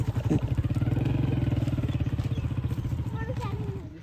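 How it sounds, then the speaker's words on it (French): A motorcycle engine on a road in Pakistan chugs with a fast, steady pulsing beat, loud and close, and eases off toward the end, with people talking over it. "Elan, il est toujours sur une moto"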